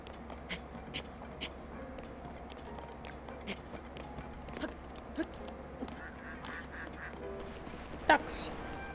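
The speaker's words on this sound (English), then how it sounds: "Ducks." Ducks quack in The Legend of Zelda: Tears of the Kingdom, out among the Sky Islands: short, fairly faint calls come repeatedly over a busy bed of game ambience and effects, with one louder burst near the end.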